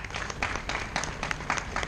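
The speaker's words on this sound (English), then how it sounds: "They deserve a clap." Clapping from the crowd at a graduation award ceremony, with uneven bursts of hands rising and falling in a loose rhythm, fairly close and moderately loud, with no speech over it.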